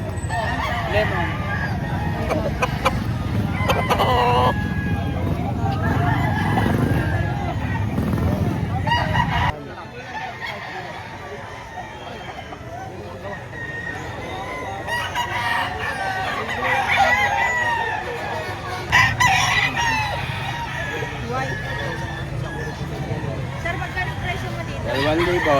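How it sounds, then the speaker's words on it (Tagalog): Roosters and chickens at a poultry market in Lipa, Batangas, crow and cluck repeatedly, some birds close and loud, others farther off, with a goose-like honk now and then and people talking nearby throughout. "Ano ang tawag sa ganitong manok, sir?"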